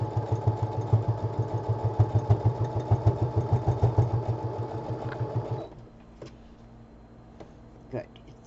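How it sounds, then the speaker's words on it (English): A sewing machine stitches a project bag, running in a fast steady rhythmic chatter for several seconds before stopping, leaving faint clicks and handling sounds. "I'm going to just sew it"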